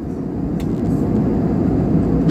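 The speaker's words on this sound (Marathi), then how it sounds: "यानंतर आत्ता त्या विमानाने लँडिंग कसे केले हे मी या व्हिडिओमध्ये दाखवत आहे" A passenger plane lands at Chandigarh Airport, heard from inside as a loud, steady low engine and airflow roar with a rumbling undertone throughout.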